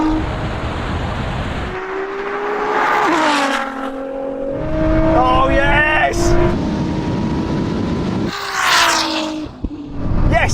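A Ferrari SF90 and a 1000 hp Nissan GT-R launch side by side in a drag race, engines roaring loud and close with rising gear-by-gear pitch sweeps, while people talk excitedly over it.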